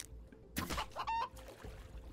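Chicken clucking in a survival video game, a couple of short bursts of clucks cutting through a quiet background, fairly close and moderately loud with no talking over them.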